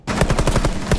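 Rapid automatic gunfire in Rainbow Six Siege, a loud, close burst of evenly spaced shots running without a break.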